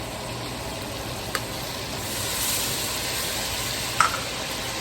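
Thawed frozen onions sizzle in a hot pan with a steady, close frying hiss, broken by a couple of sharp clinks of a utensil against the pan.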